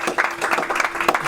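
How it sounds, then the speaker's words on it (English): Applause greets a guest speaker at a university student forum on Brexit, a short burst of clapping with slightly uneven peaks, fairly close and steady, with no voices over it. "Let's give him a round of applause for being here today."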